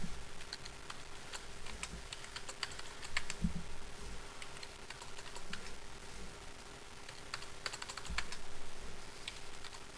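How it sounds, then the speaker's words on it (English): Fingers tap quickly on a calculator keypad, small dry clicks in uneven clusters, faint and close in a quiet room with no talking. "And then we're going to type in our data."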